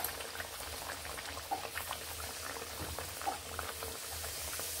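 Dalpuri dough rounds frying in a little hot oil in a wok, a soft continuous bubbling sizzle with light popping, close but quiet, no talk.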